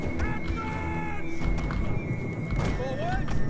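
Horses whinny and neigh amid a dense battle din in Total War: Attila, with Hunnic horse archers being pinned in, the high neighs rising over a steady rumble of hooves and crowd noise throughout.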